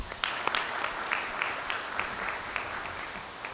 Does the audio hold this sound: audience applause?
yes